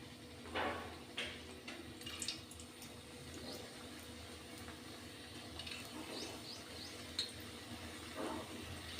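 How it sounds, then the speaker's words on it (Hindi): Gulab jamun dropped into hot, fairly high-heat oil, giving a steady low, foamy sizzle with occasional bubbling bursts and faint clinks, fairly quiet and with no talk. "देखिएगा डलते ही झाग बन रहे हैं तेल में"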